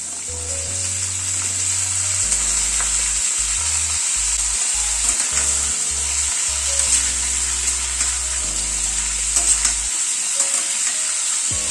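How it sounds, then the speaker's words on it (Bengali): Potato and pumpkin pieces fry in hot oil in a pan, a loud, constant sizzle with occasional stirring scrapes running unbroken throughout, with no voices. "আলুটাকে একটু মিনিট খানেক নাড়াচাড়া করে নিলাম। এবার কুমড়োটা অ্যাড করে দিচ্ছি।"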